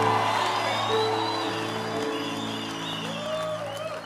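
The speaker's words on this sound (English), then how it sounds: "Give Jesus a big clap of him." Congregation at a church youth service claps and cheers for several seconds, steady broadband applause with a few whoops over sustained organ or keyboard tones, moderately loud and continuous throughout.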